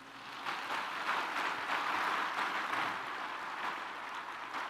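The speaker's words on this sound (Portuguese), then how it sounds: "Você quer dar um aplauso ao Senhor?" A church congregation applauds together, a steady wash of many hands clapping that swells after the first half second and holds at an even, fairly loud level throughout, with no voice over it.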